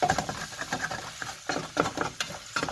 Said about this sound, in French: je viens gratter mes sucres en même temps